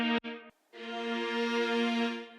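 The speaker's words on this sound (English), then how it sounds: "I added these fog horns and strings" Synthesized fog horns and strings from a melodic drum and bass track sound a short chord, break off briefly, then hold one long, bright, sustained chord.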